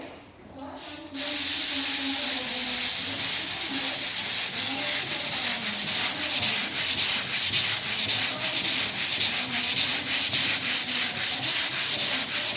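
Steady, loud abrasive sanding of body filler on a dented car panel hisses on without pause, a rough rubbing rasp with a faint voice murmuring underneath.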